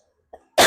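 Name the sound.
cough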